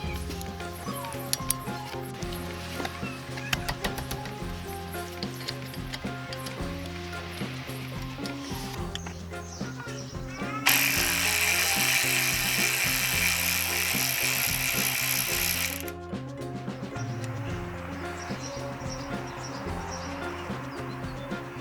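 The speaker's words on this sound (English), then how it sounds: "Then I will use my impact gun" Ratchet clicks and tool handling on an Alfa Romeo Mito front brake caliper, then an impact gun rattles loudly for about five seconds as it spins out the caliper bolt, before quieter clicking resumes.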